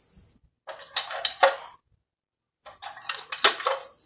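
Mustard seeds poured into a pot of oil and ghee, two bursts of metallic rattling and clinking separated by a pause, close and clear with no talk.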